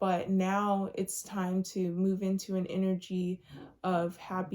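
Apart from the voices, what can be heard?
None of the usual background noises is heard.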